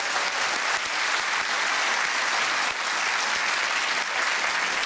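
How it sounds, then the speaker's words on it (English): A television quiz show studio audience gives sustained, loud applause, a thick even wash of clapping from many hands with no pauses. "Let's give him a round of applause."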